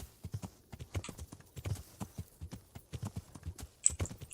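Horse hooves in Kingdom Come: Deliverance, a close, irregular clip-clop of a walking horse with uneven beats, no speech over it.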